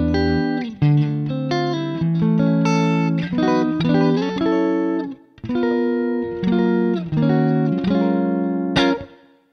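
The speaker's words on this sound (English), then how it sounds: "Beautiful reverb, man." Electric guitar playing funky chord phrases through a Neural DSP Archetype Cory Wong plugin with lush reverb, the notes ringing out and blending into a wash of sustained ambience, loud and close, with no talking.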